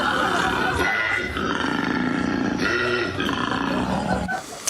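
A male koala gives a mating call, a loud, rough, snoring roar made of deep grunting pulses that lasts several seconds.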